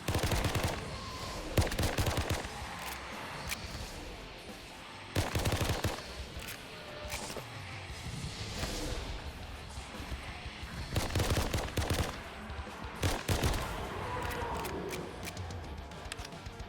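Gunfire in the VRChat zombie game Zombies Trinity: repeated loud bursts of rapid automatic shots separated by brief pauses, close up and dominating, with no talking.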